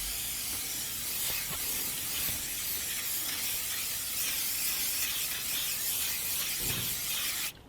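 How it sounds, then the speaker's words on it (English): A steady, close hiss of leather conditioner spraying onto a Nissan Primera P12 car seat runs almost without break for several seconds, with faint rubbing and handling noises, then stops abruptly. "spray it onto leather from about 6 inches"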